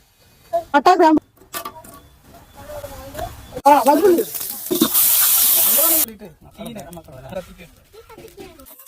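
Green chillies and curry leaves hit hot coconut oil in a pan and burst into a loud hissing sizzle lasting just over a second, amid someone talking before and after.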